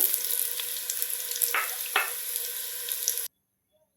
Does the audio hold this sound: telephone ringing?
no